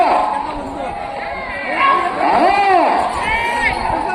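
A crowd shouts and cheers at a bull race featuring a small pair of Beeram bulls in the six-teeth class at Eguva Tamballapalle village, with raised voices swelling and overlapping throughout, loud and close, mixed with talk.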